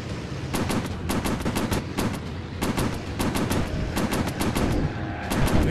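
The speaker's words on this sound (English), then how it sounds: "Fighters, switching to machine guns." Rapid bursts of Spitfire machine-gun fire in a WWII dogfighting VR game, loud repeated volleys of sharp cracks over a constant engine drone, with no talk.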